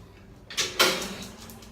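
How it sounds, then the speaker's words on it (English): A dog kennel door opens with two quick metallic clanks close by, a light knock then a louder rattle that rings briefly in a quiet room. "You want to open the door"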